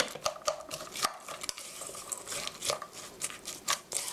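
A spoon stirs a meat sauce mixture seasoned with ground black pepper in a bowl, making quiet, uneven clicks and scrapes against the sides, close by and with no talking.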